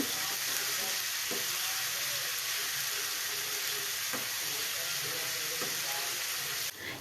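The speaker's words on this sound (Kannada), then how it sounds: "ಶುಂಠಿ ಬೆಳ್ಳುಳ್ಳಿ ಪೇಸ್ಟ್ ಹಾಕ್ತಾ ಇದ್ದೇನೆ ಅದು ಸ್ವಲ್ಪ ಫ್ರೈ ಆಗಲಿ" Ginger garlic paste sizzling in hot coconut oil for a mutton soup, a steady bright frying hiss with a few soft clinks of stirring.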